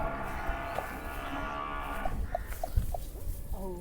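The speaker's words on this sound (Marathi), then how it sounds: "तर ही बन्नीची म्हैस आहे." A Banni buffalo on a Maharashtra farm gives a series of low, drawn-out moos, close and fairly loud, with a steady murmur of farmyard background behind it.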